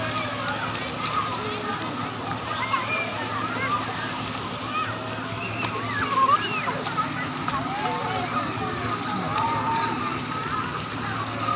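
Waves and water splash and churn in a children's wave pool at a water park, a steady washing roar with crowd chatter and voices mixed in throughout.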